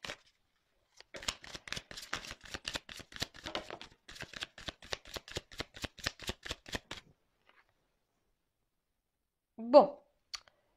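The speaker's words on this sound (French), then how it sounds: "Donc, je vais prendre les cartes là." Playing cards are riffled and shuffled close by in a quiet room, a rapid run of crisp flicking clicks lasting several seconds, followed by silence and one short soft sound near the end.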